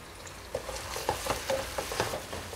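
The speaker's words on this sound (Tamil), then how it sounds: "இப்போ பூண்டு இஞ்சி எல்லாம் நல்லா வதங்கி ஒரு நல்ல ஸ்மெல் வருது" Garlic and ginger sauté in oil in a pan, giving a steady low sizzle broken by several short scraping stirs, close and fairly quiet, with no talking.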